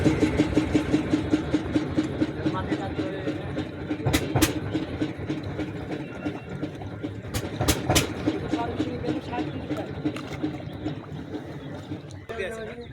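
Steady engine of a boat crossing a branch of the Padma river in rural Bangladesh, a continuous low drone with rattling and a few sharp knocks, voices talking over it.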